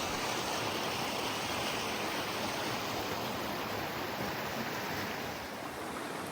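Steady broadband rush of creek water flowing through a trailless gorge on the way to Royal Falls near Los Angeles, continuous and fairly loud with no voices over it.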